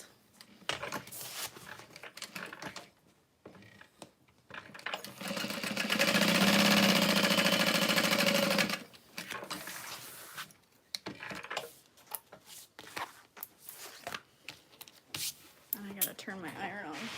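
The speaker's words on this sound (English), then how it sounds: "I'm just sewing 2 parallel lines." A home sewing machine stitching two parallel lines runs in one steady, loud burst of about three seconds, with the presser foot down. Conversational talk comes before and after it.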